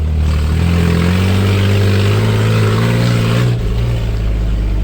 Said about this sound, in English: I couldn't talk before because the exhaust is so bad